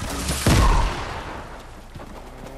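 A grenade launcher blast in Fortnite Battle Royale: one loud, booming low explosion that rolls and fades over a couple of seconds, followed by quieter distant pops.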